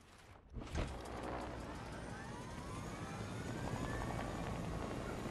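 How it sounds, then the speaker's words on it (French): A helicopter in the video game Fortnite whirs with a steady, loud rotor and engine drone that starts abruptly and holds for several seconds, with no talk over it. "Je prends l'hélicoptère, je vais aller en haut déjà."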